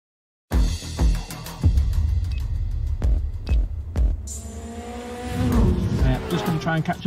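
Motorcycles riding past on a road, engines throbbing loudly and sweeping by close, rising to a revving roar near the end.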